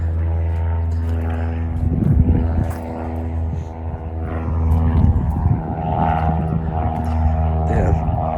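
A propeller airplane passes over an excavated church ruin in Ephesus, a steady droning engine hum that swells and fades slightly across the whole stretch, with wind and faint handling noise over it.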